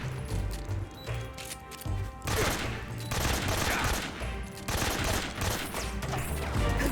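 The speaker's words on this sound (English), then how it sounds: "His minions are shooting at me." In Metal Gear Solid 3, enemy soldiers let loose bursts of rapid gunfire, repeated volleys of shots crackling over a low game soundtrack throughout.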